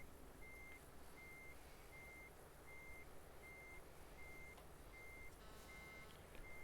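A truck reversing in Euro Truck Simulator 2 sounds a steady series of evenly spaced reversing beeps, about eight in a row, over a low engine rumble, moderately close and unbroken by talk.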